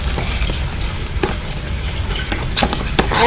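Homemade slime being stirred and worked after activator is added, a steady wet squelching and smacking texture with occasional sharper slaps, close and continuous without talk.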